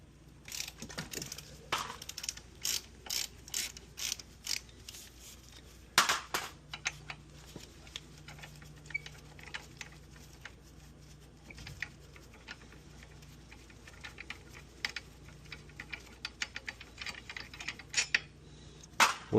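A ratchet works a brake bolt loose on a Jeep JK front axle, giving quick, light, close metallic clicks in uneven bursts with short pauses and no talking.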